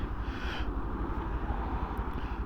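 A Mutt Stravaig 401 motorcycle pulls away, its engine giving a steady low rumbling drone with a brief rise in pitch early on, heard alone without talk.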